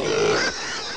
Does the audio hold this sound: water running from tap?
no